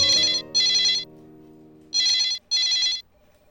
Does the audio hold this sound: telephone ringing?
yes